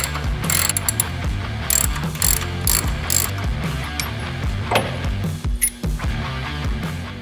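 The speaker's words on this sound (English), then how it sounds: "take your 3/4 socket and take your OEM shocks off" Ratchet wrench with a 3/4 socket loosening the OEM shock bolts on a 2002–2023 Harley touring motorcycle, a loud, steady run of close clicking and ratcheting strokes with a brief pause near the end.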